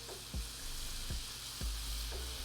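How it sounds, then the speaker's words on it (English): Minced garlic frying in unsalted butter, a steady close sizzle broken by three or four soft stirring knocks at regular intervals, with no talking. "Now we're going in with our minced garlic. I'm going to fry that until fragrant."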